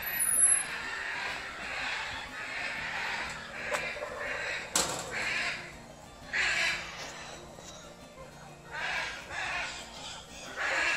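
Harsh, raspy macaw squawks repeat irregularly, several birds calling in an aviary over a steady background hum, moderately near.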